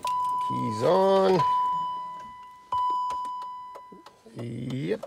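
A BMW X5 E53 gives its ignition key-on chime: a steady electronic tone with a few clicks under it, sounding close inside the cabin, while someone talks briefly before and after it.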